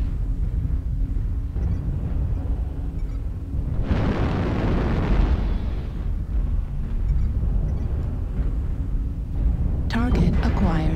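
An artillery strike explosion in a video game: a single broad, roaring blast swells up and lingers for about two seconds over steady background rumble, with talk heard in the scene.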